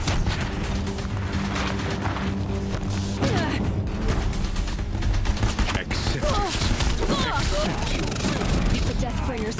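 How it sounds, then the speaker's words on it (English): Heavy machine gunfire from Deathbringer war machines in Horizon Zero Dawn, a dense continuous barrage with booming impacts and crashes, loud and sustained, with voices and a droning score underneath. "If the Deathbringers keep firing, this bridge will go."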